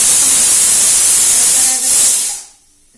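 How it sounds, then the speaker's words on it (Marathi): A kitchen pressure cooker cooking khichdi lets off a loud, close, continuous steam hiss that cuts off abruptly near the end, leaving near silence. "कुकरच्या शिट्ट्या होत आहे"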